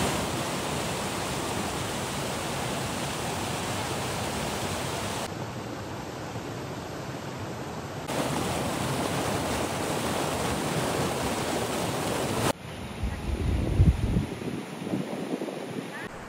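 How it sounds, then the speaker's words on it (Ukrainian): A small, fast, clear Carpathian mountain river in Bukovina, a steady broadband rush of flowing water heard close and unbroken, with slight shifts in level and a few low thumps near the end. "Річечка невеличка, швидка, чиста"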